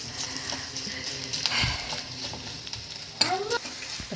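Seasoning ingredients sauté in a pan with a continuous crackling sizzle, broken by scraping stirs of a spatula and a couple of sharper knocks against the pan.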